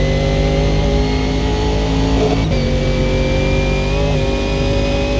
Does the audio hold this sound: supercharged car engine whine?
yes